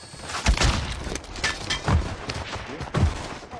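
Gunfire in the Warzone video game: several loud gunshot bursts with heavy low thumps, at about half a second, two seconds and three seconds, set against a steady bed of game noise.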